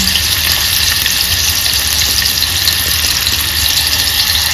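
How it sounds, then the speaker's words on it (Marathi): Chopped onion fries in hot oil in a home kitchen, giving a steady, loud, dense sizzle that continues without break from start to finish, with no voices. "तेल गरम झाले. आता मी कांदा टाकते त्यामध्ये."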